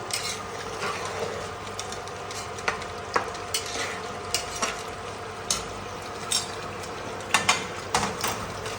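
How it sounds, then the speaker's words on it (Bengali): Meat pulao being stirred in a pot over a steady frying sizzle, with a rhythmic series of scraping clicks from the spoon; no talking. "এবার আমি নেড়ে দেবো"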